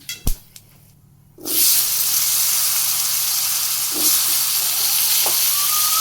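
Sliced potatoes dropped into hot oil left from frying eggplant, with cumin seeds added, burst into a loud, steady sizzle after a moment of quiet and a couple of sharp knocks, then fry on continuously.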